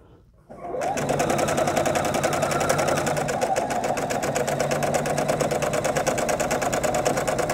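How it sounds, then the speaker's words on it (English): Sewing machine running steadily with a 1/4-inch foot, stitching a short border onto the top of a crib-size quilt, a loud close rapid mechanical whir that starts abruptly and continues without pause. "put this against our 1/4-inch foot and sew the short border to the top"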